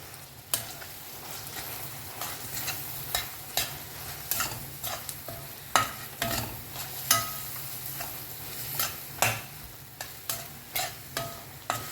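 Ginger and garlic sautéing in a pan, a soft steady sizzle punctuated by regular spatula scrapes and taps against the pan, close and fairly quiet.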